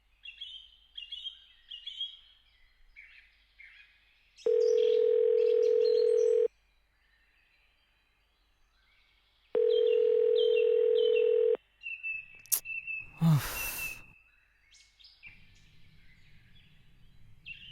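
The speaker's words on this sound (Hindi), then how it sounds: "एक बार फोन कर ही लेते हैं" Telephone dial tone sounds in two long steady bursts separated by a pause, with faint bird chirps in the background, followed by a sharp burst of dialing or line noise.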